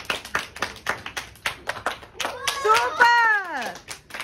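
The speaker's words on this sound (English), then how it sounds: "Clap, clap, clap." Children clapping hands in a group clapping game, a run of evenly spaced sharp claps, followed by a voice speaking over the last part.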